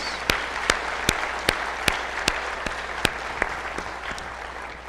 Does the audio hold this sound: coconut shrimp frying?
no